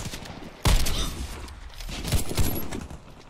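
Gunfire in the video game Warface on a trailer park map, a sharp loud burst of rapid shots followed by a few more scattered shots close up.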